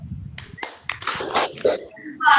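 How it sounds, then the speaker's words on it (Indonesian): Children in a primary school class perform a rhythmic salute clap together: a few sharp, separate claps, then a noisier flurry of hand slaps, with children's voices and chatter around them. "Kita bersama-sama tepuk salut ya. 1, 2, 3, tepuk salut."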